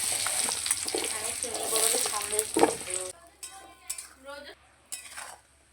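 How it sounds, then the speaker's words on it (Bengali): Cut potato pieces fry in hot oil with a loud, dense sizzle. Stirring and the clatter of a utensil against the pan come through before the sizzle drops off abruptly, leaving a few clinks and scrapes. "আলুগুলো ভেজে নেব"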